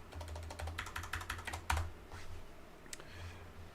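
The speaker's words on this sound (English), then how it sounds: "Can you see me typing?" Someone types on a computer keyboard, a close run of quick clicking keystrokes in an irregular rhythm, one sharper key clack, then a few scattered taps over a low room hum.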